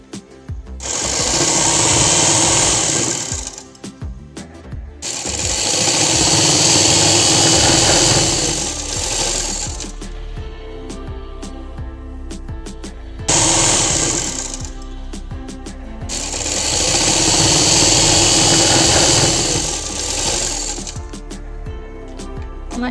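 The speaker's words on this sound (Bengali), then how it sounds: "এবারে আর একটা পাটও এইভাবে করে সেলাই করে নেব।" A sewing machine stitching fabric for a one-year-old's baby frock, running in four long loud bursts of rapid whirring with short pauses between them.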